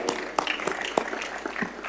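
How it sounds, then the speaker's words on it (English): Scattered audience applause at the close of a climate action week conference panel in Baku, a fairly quiet, thin patter of claps lasting about two seconds with no talking. "This deserves applause."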